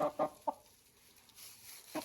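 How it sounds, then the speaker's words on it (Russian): Laying hens in a warm coop give a few short, soft clucks, spaced out and fairly close, with quiet stretches in between. "Так разговаривают курочки"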